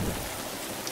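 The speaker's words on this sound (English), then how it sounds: "Oh no, don't give me rain." Steady rain falling in the video game Zelda Breath of the Wild, a dense, even hiss of raindrops with no talk over it.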